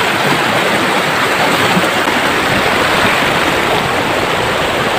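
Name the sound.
mountain waterfall and flowing river water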